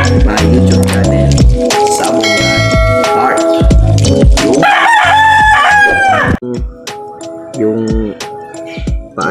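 An Asil gamefowl rooster, a fairly tall bird, crows loudly and close by in several long, drawn-out calls, with shorter clucks and bird noises following toward the end.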